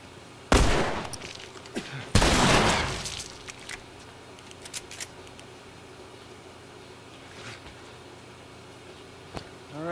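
Two loud, close shotgun blasts in The Last of Us, the first near the start and the second about two seconds later, each ringing out briefly, followed by quieter scattered clatter and faint distant pops.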